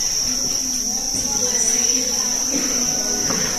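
Crickets in a breeding box being cleaned, a continuous shrill chirping drone that stays close and steady, with faint rustling and a voice speaking underneath.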